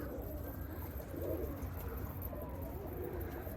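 A dolapçı tumbler pigeon with a troubled foot gives soft, low coos, faint against a steady background hiss outdoors.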